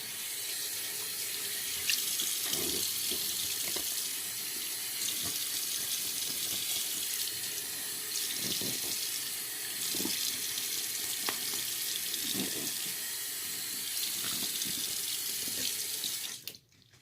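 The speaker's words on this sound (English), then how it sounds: "time to rinse off the face" Tap water runs steadily into a sink as a face is rinsed after shaving, a continuous close hiss with occasional splashes, cutting off abruptly at the end.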